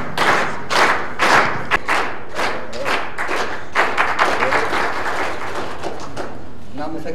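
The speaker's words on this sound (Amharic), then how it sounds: "ሞቅ ያለ ጭብጨባ" An audience at a poetry book launch claps warmly with continuous, dense applause and sharp hand thumps. It is loud and close, holds steady for several seconds, then thins slightly toward the end.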